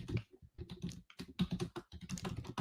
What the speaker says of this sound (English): I'm going to type in chat, though.